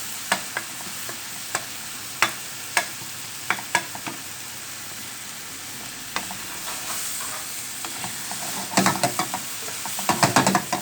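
Baingan bharta fries in desi ghee in a pan with a soft continuous sizzle, while a spoon scrapes and taps against the pan in sharp irregular clicks that cluster toward the end.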